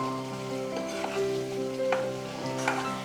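Bitter gourd thokku with carum seeds and fenugreek bubbles and sizzles in a pan, giving a steady close hiss with soft popping bursts and faint stirring scrapes.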